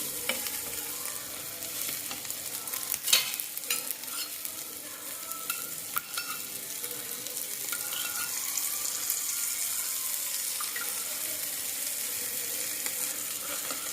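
Nagli fish frying on a flat tawa gives a steady, close sizzle throughout, with scraping and stirring clinks as the pieces are turned, and no voices.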